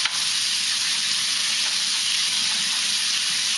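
Beef fajita strips stir-frying over high heat in a hot pan, giving a steady, loud, bright sizzle with no pauses.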